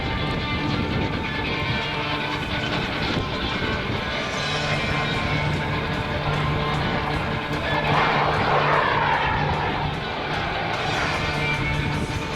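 A US Navy F/A-18F jet flies at the Australian International Air Show 2009, a broad continuous engine roar held steady and fairly loud throughout with a slight swell midway, no voices over it.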